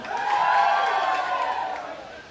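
A crowd at a dance contest breaks into a short swell of cheering and clapping that rises quickly and fades within a couple of seconds.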